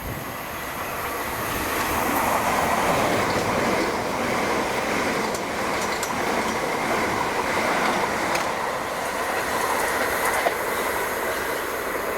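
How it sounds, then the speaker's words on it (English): Train arriving at Thanet Parkway station, a loud steady rumble of wheels on rail building within the first two seconds and holding, with faint squeals over the continuous roar and no talk. "The train now approaching."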